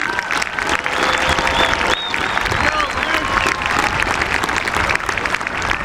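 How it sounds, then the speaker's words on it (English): A high school graduation audience breaks into sustained applause, dense steady clapping filling the hall for several seconds with a faint murmur of voices underneath. "Please join me in a round of applause for these students."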